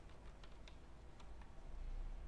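Quiet, rapid clicking of keys as a command is typed on a computer keyboard, irregular soft taps under a steady background hum.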